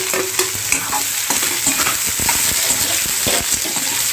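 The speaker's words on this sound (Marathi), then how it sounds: "कांदा आहे ना तो चांगला आपण आता यामध्ये फ्राय करून घेऊया" Onion with crushed curry leaves and garlic frying in a pan, a steady close sizzle with scraping stir strokes against the metal, no voices.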